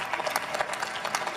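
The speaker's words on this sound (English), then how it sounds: "Can you guys give them a round of applause?" Applause from a seated audience at an Ignite the Night pitch event in Denver as a startup team comes on stage: a fairly quiet, even patter of clapping hands, continuous and somewhat distant.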